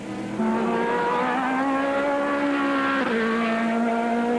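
Mercedes and Porsche GT race cars at full speed on track in the 1998 FIA GT season, a loud sustained engine roar with rising and falling pitch as the cars pass, with no talk.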